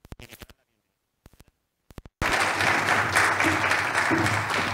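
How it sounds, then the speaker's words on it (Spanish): Audience at a Mexican preventive cardiology society conference breaks into loud, sustained applause for the society's president, preceded by a few scattered early claps. "Demos un fuerte aplauso a nuestro presidente de la Sociedad Mexicana de Cardiología Preventiva."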